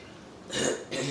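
A woman coughs indoors, two harsh bursts in quick succession, the first longer and rougher, the second shorter, close to the microphone against quiet room noise.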